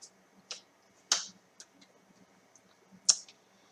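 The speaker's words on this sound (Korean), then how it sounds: "키보드에 백스페이스 키 눌러서 이미지를 삭제해주고" Sharp keystroke clicks on a computer keyboard's backspace key, a few separate taps spaced about half a second to two seconds apart, close and fairly quiet with no talking.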